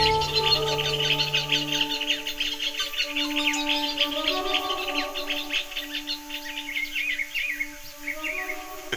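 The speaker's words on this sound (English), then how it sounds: "The Chaco owl keeps the mouse population in check." Night chorus in the Gran Chaco forest of Argentina and Paraguay, with repeated high chirping calls and insect-like trills, while a Chaco owl is said to call; steady, moderately loud, no speech.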